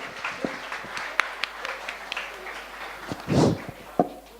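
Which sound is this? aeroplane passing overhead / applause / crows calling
applause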